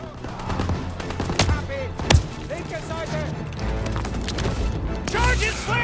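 Bursts of machine gun fire and scattered shots ring out in a Call of Duty: WWII battle at Hill 493, sharp loud cracks among soldiers' shouted voices and steady combat noise.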